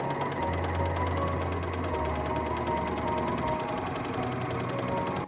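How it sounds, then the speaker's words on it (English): Overlocker serging the raw edges of fabric pieces for a pair of shorts, a continuous rapid mechanical chatter, loud and close, with a low motor hum shifting partway through. "I'm just going to quickly overlock the edges."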